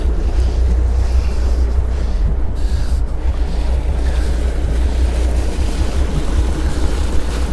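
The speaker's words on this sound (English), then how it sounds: "we have one engine running" The first of a boat's two engines runs after its first start of the season, a loud, steady low rumble with wind buffeting the microphone throughout.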